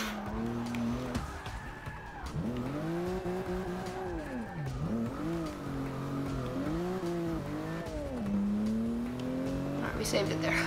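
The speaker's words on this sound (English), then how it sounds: "Literally just hammered the brakes right there." Tires squeal under hard braking from a BMW M235i in the Forza Motorsport 6 racing game, with wavering engine tones and screeching across the whole stretch and a person talking over it.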